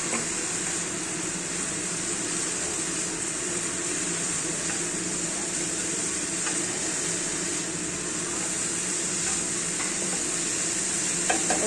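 Potatoes go into a frying, spiced drumstick flower curry in a pan, giving a steady broad sizzle with soft stirring scrapes throughout, close and continuous, with no talk.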